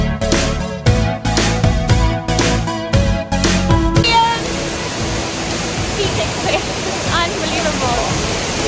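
Fiji Waterfall near Sekumpul in Bali roars as a broad, steady wash of falling water, loud and continuous, following a few seconds of rhythmic music at the start.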